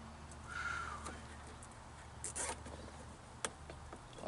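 A plastic zip tie is ratcheted tight around a cable on a lawn mower during a Predator engine swap, giving short raspy zipping pulls and a sharp click, close and quiet over low background hum.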